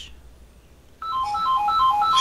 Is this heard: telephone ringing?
yes